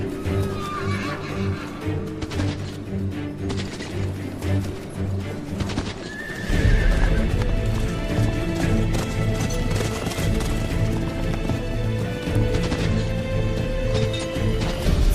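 Horses whinny loudly and hooves clip-clop as several mounts gallop about on a ride in a medieval setting, the hoofbeats growing denser and louder after a brief lull, with neighs rising over a steady rumble and faint background music.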